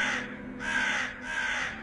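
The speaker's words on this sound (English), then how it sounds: "that crow began to caw" A crow caws twice, clear and moderately near, each harsh call lasting about half a second with a short gap between, over faint background hiss.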